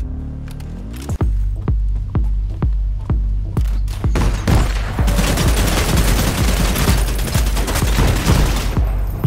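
Purple Kalashnikov fired in Vampire: The Masquerade - Bloodhunt, starting as spaced single shots that quicken into a dense, loud sustained burst of automatic gunfire with booming low end.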